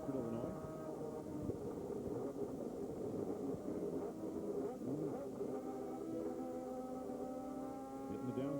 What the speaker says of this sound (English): Hitting the downshifts and back on the gas.